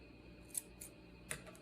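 Scissors snipping yarn tail ends on a DIY CD dreamcatcher, four quiet, crisp cuts spaced irregularly over a faint background, very close.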